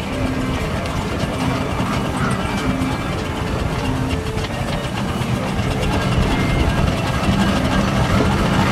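A Marshall double crank compound steam engine runs at a steam rally, giving a loud, steady rhythmic mechanical chuffing and clanking that carries on throughout, with outdoor crowd noise underneath.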